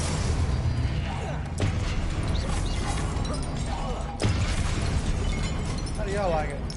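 Confringo fire spell blasts from the Hogwarts Legacy video game, loud explosive bursts near 1.6 and 4.2 seconds over dense, continuous combat noise.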